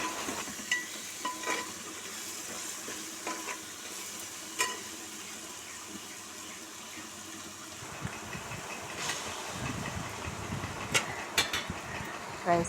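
Rice stirred and fried in hot oil in a pan for pudina (mint) rice, a steady sizzle with scraping stirs that grows louder and busier in the second half, some clicks of a spoon against the pan.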